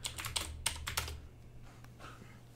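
Close, quick clicking of keys on a computer keyboard, a rapid burst of typing that thins out into a few scattered taps.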